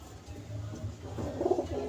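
A female pigeon gives a soft, low cooing burst close by over a faint background hum, rising briefly toward the end.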